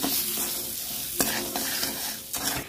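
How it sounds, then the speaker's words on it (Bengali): Tamarind and sugar frying in oil in a pan while being stirred: a continuous close sizzle broken by scraping spoon strokes and occasional sharp taps against the pan. "জল দেবো না, এটাই নাড়তে নাড়তে চিনিটা গলে যাবে।"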